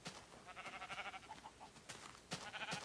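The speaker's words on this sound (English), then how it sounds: "there's some cows" Cows in the Minecraft Beta 1.0 video game, faint low moos and animal calls repeating over a couple of seconds with soft game background.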